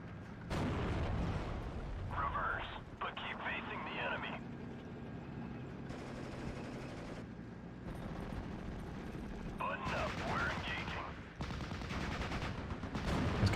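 Gunfire and artillery shots from a Steel Division: Normandy 44 battle pop and thud in several rough bursts spread across the clip, fairly faint and distant, with a low continuous rumble beneath.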